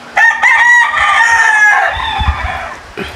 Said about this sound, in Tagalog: Ayan, high action pullet.